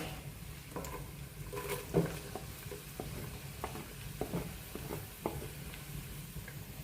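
Diced onion hitting a pot of hot pork cracklings and rendered fat, a steady low sizzle with stirring scrapes and soft clicks running throughout at moderate distance, no talking.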